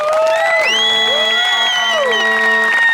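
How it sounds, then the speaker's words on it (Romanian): Spectators at the award ceremony of the 2016 Mogoșa Downhill Challenge cheer and whoop loudly, with sustained shouted calls rising and falling over a steady crowd din. "Hai cu niște aplauze!"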